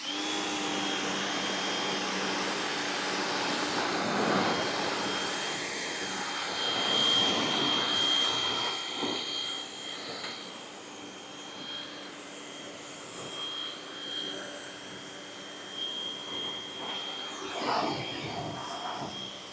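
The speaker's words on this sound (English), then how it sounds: "now I got the green nozzle on here. We're gonna try to rinse this off" A Westinghouse pressure washer fitted with a green nozzle sprays a steady, loud, hissing jet with a thin whine running through it, rinsing a surface. The rush swells and dips slightly as the spray moves.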